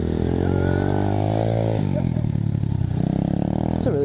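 An Apollo 125cc dirt bike engine revving outdoors, a loud continuous motor drone that shifts pitch as the throttle rises and falls, with a brief sharper rev near the end.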